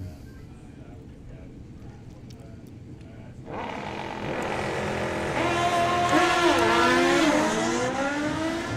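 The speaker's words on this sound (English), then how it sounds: "Alan Davis, who also rides a Fuel Harley." Supercharged Fuel Harley drag racing motorcycles on a drag strip roar in after a quieter start, a loud sustained engine blare with rising and falling pitch that builds and holds.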